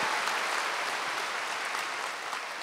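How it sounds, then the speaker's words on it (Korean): A church congregation at a Wednesday worship service applauds, a steady full wash of clapping from many hands that fades slightly toward the end, with no speech over it. "박수로 하나님께 영광 돌리겠습니다."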